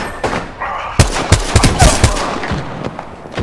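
Bursts of gunfire in an Apex Legends match: a run of sharp, loud shots in quick succession through the middle, with scattered further cracks and background game noise.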